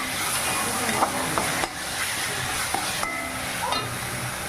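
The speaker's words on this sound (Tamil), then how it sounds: "சிக்கன் போட்டுட்டேன்." Marinated chicken, washed and coated in turmeric and yogurt, fries in a home kitchen pan with a steady close sizzle and hiss, broken by occasional stirring scrapes and clinks.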